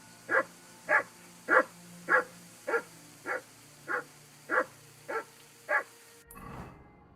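A dog in the medieval game Kingdom Come: Deliverance 2 barks ten times in an even, steady rhythm, each bark clear and close, followed by a short burst of rustling noise.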